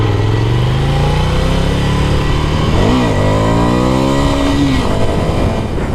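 A 2017 Ducati Scrambler Desert Sled motorcycle pulls hard in first gear, its loud close engine rising in pitch, dipping briefly at a throttle change, then climbing again.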